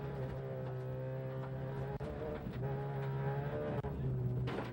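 A rally car crossing the finish line at the 2005 Rallye des Draveurs in Maniwaki, heard from inside as a steady droning engine with a constant low tone and rattling cabin noise, two sharp knocks, no talk.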